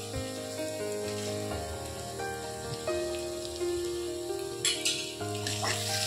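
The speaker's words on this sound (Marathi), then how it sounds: "कांदा आणि अद्रक लसणची पेस्ट मस्त परतली गेली आहे।" Chopped onion and ginger-garlic paste fry in a pan for a shahi kaju paneer masala, giving a steady soft sizzle with faint stirring scrapes near the end, no talk over it.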